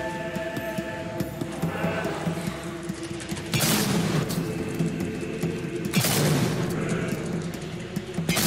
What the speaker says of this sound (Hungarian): Egyetlen lövés mi.